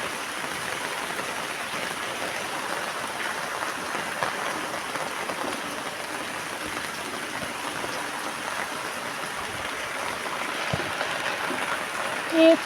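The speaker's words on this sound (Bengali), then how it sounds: "এত বৃষ্টি" Heavy monsoon rain pouring steadily over a flooded courtyard in Bengal, a dense, even hiss of downpour that holds loud and unbroken throughout.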